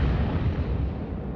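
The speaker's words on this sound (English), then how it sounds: "Bomb blasts." A World War 2 bomb blast, a heavy, roaring rumble with deep low-end weight that fills the whole short moment and slowly fades.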